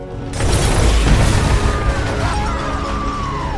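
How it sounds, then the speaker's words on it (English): A massive explosion from a fantasy-series battle bursts in after a brief quiet moment, then rolls on as a loud, dense roar that slowly settles, with no voices over it. "The children's actions trigger a massive explosion."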